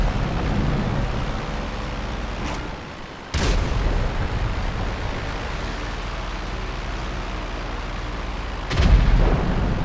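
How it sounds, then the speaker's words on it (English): Bombs burst during aerial combat in GTA Online, with heavy booms and rumbling engine noise across ten seconds. A sharp blast lands near the middle and another strong, low-heavy impact hits near the end. "Let's put some bombs on them."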